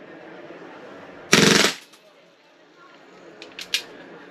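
A Tokyo Marui MWS airsoft rifle, tuned for high rate of fire at about 22 rounds per second, rips off one short loud burst, followed later by a couple of faint clicks.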